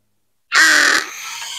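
A black crow near an owl nest gives one loud, harsh caw close by, followed by a lingering ringing tail of the call.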